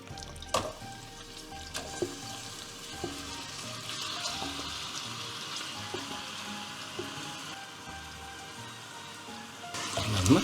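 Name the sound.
marinated green chicken mix frying in hot coconut oil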